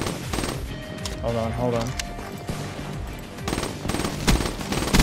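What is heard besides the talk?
gunfire in video game Call of Duty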